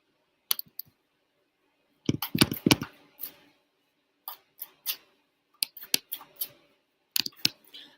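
Tarot cards being shuffled close by in a quiet room, heard as crisp bursts of riffling clicks and snaps in short, irregular clusters separated by silence.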